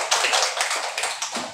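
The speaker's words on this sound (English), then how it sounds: "Okay, clap for her." Children clap in a classroom, a quick run of about a dozen sharp, close hand claps in a steady rhythm.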